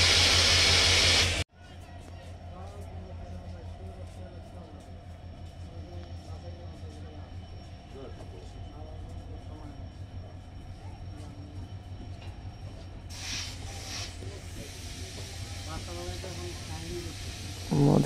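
The Jahanarabad Express pulls away from Kashiani junction, heard from inside the carriage as a steady low rumble and hiss of the moving train, with faint voices in the background.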